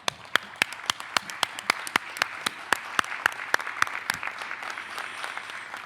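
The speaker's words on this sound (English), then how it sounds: "A collective clap for our panel." A small audience at a city roundtable on nature, health and agriculture claps for the panel: a sparse, steady run of about twenty distinct, crisp handclaps, fairly close, with a few hands joining and thinning out toward the end.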